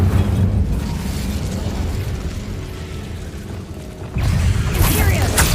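An Incendio fire spell cast in Hogwarts Legacy roars as a dense, loud burst of fiery rumble and crackle that keeps going, then swells again with a fresh whooshing flare near the end.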